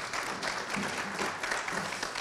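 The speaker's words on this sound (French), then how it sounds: "Vous pouvez l'applaudir" Applause from a conference audience greets a speaker announced at an event on supporting diaspora talent in Africa, a steady, fairly soft wash of many hands clapping at a distance.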